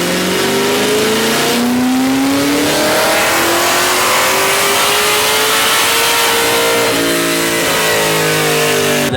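A ProCharger-supercharged Chevy SS engine revs hard and loud on a dyno with a rising, whining supercharger pitch, holding a sustained roar throughout with no voices.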